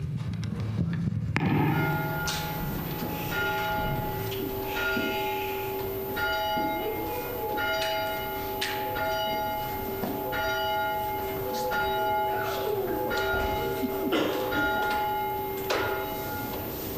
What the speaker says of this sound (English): We begin the service by lighting the candle and ringing the bell.